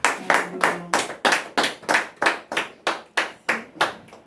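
A church congregation claps in a steady unison rhythm, about a dozen sharp, loud claps spaced evenly, with a brief sung or hummed tone under the first beats.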